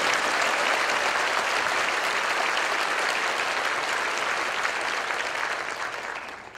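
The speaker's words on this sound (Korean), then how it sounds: "우리 격려의 박수 하도록 하겠습니다" Applause fills a church during a 50th anniversary celebration for Yongin Jeil Church, a dense, loud, continuous roar of many hands that holds steady and then fades at the end.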